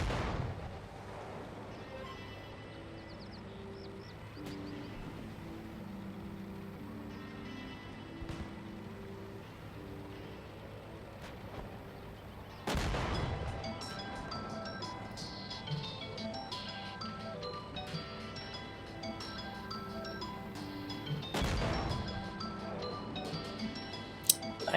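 Tank guns fire in the Armored Warfare game, with a few sharp, loud cannon blasts spaced several seconds apart over a steady engine drone and game music.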